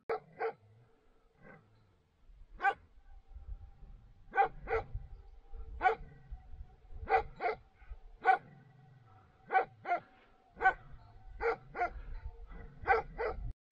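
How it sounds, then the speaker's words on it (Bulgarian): Karakachan sheepdog guarding a flock below Vihren peak on the Kabata route, barking in repeated sharp bursts from a distance, irregularly spaced across the stretch, with faint background noise and no talk. "То по принцип лая е отдалече, но все пак си е каракачанка."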